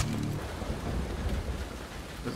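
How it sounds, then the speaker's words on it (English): Steady rain pours down across London in the video game Splinter Cell: Blacklist, a continuous dense hiss with low rumbling underneath, heard alone without talk. "You can tell because it's raining."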